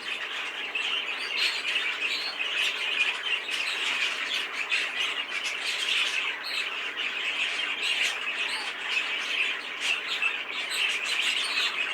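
Several caged canaries, including a variegated yellow and a heavily variegated buff hen at a bird show, chirp and squawk continuously at close range, a dense, steady chatter of high tweets with no talking.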